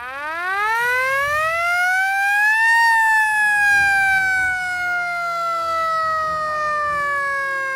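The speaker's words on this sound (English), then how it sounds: "This is an old original siren." An old original hand-cranked siren winds up to a loud rising wail, peaks, then slowly sinks in pitch as it spins down, with faint voices murmuring underneath.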